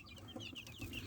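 Domestic chickens cluck softly in their coop over wood-shavings bedding, a busy scatter of short chirpy clucks and murmurs from several birds close by, with no talking.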